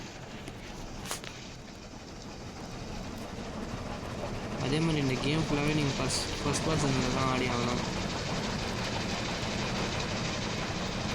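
Rumble of a train in a first-person video game, a steady low drone running throughout under someone talking.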